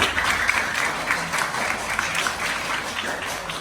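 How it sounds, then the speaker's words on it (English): A small group at a children's reading event claps in a steady, close, crackling patter that fills the whole stretch without pause. "Clap for her."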